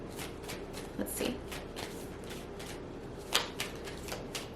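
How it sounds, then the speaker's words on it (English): Tarot cards are shuffled by hand in repeated soft riffling bursts, close and crisp, with a couple of sharper taps between them. "Whenever I feel like shuffling it, I'm just going to shuffle."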